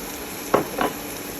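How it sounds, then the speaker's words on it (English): Crayfish and onions fry in oil in a pot, a steady sizzle broken by two quick stirring scrapes close by. "I'm gonna fry this together to let the both of them marry together properly"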